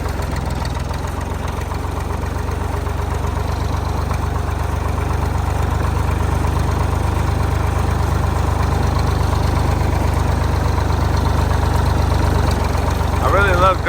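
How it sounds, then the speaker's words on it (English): A farm tractor idles steadily with a deep low rumble that holds unchanged throughout, loud and close, with no talk over it. "I really love driving this tractor."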